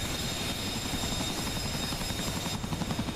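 Steady, close rotor and engine drone of a Chinook twin-rotor helicopter in a VR flight simulation, a continuous dense roar with a rhythmic low thumping that eases slightly near the end.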